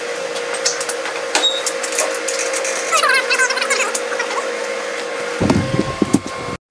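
Ratchet tightening bolts while a part is bolted back together in a welding shop: a loud, continuous run of quick mechanical clicking and whirring with a steady hum under it, then clunks at the end.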